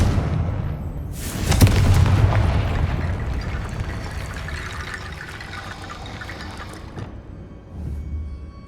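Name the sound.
Confringo fire spell blast, Hogwarts Legacy video game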